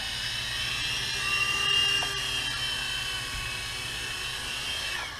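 High, whining buzz of a GP Toys G610 3.5-channel RC toy helicopter hovering near the ground, its small rotor and motor droning steadily with slight pitch swells.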